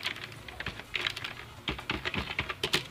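Fingers type on a computer keyboard while a program is being written, a quick, close patter of uneven keystrokes with short pauses, heard alone without speech.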